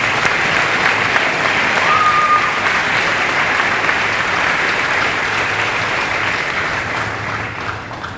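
Sustained applause from a large audience at a high school awards ceremony, steady and dense clapping throughout, fading slightly toward the end.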